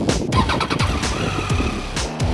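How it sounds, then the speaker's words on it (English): A Triumph Tiger 800XC motorcycle with an 800cc three-cylinder engine runs with a close, steady engine note and brief rising revs, heard alone without talk. "With the 800cc 3-cylinder engine fired up"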